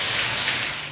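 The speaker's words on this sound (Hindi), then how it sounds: "थरपारकर के मुख्तलिफ इलाकों में वक्फे से बारिश का सिलसिला जारी है।" Rain falling steadily in Tharparkar, a dense, even hiss of drops on surfaces filling the whole moment without any voices.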